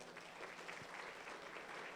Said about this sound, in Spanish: un fuerte aplauso para mis amigos